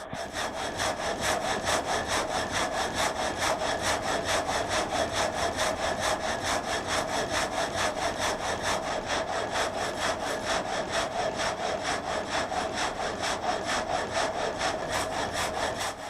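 Up-and-down frame saw cutting through wood in a constant rhythmic cycle, each rasping stroke evenly spaced and steady for the whole stretch, loud and close with no talking.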